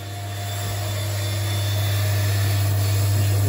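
Steady drone of a water pressure booster pump running behind a shut cupboard door, a continuous low hum with a soft hissing wash that builds slightly at the start and then holds even.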